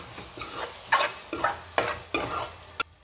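Potato spinach curry is stirred in a pan, about six distinct scraping strokes at an uneven pace over a soft simmer, close and fairly quiet with no voices.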